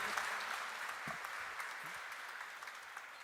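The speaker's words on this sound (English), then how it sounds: "I think he deserves a huge round of applause for this great achievement." A crowd applauds steadily, a dense wash of clapping from many hands that holds throughout and fades slightly toward the end.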